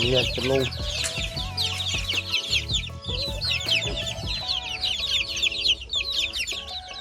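Free-range village chickens cluck busily on a small farm, with repeated close clucks and rooster-like calls and bright bird chirping above, all continuous and fairly loud.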